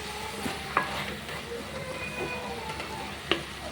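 Amaranth stems stir-fry in an open pan with a low steady sizzle and a couple of sharp spatula knocks, with faint voices in the background.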